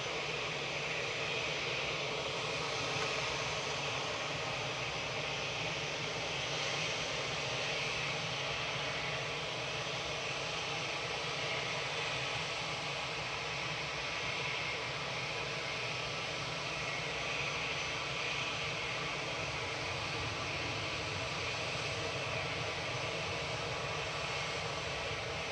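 A Kuwait Airways aircraft arriving at Manchester Airport from Kuwait City produces a low, continuous jet drone, fairly quiet and unchanging over a long stretch with no voices.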